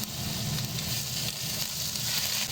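Ginger garlic paste frying in hot oil in a pan, a steady close sizzle that runs without a break.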